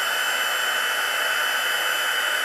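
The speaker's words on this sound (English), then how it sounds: "I did bring my heat tool here. So let's just grab that and we're going to dry this really quick." Steady, loud rushing blast of a handheld heat tool drying wet watercolor paint, a constant broadband hiss with no breaks and no voices.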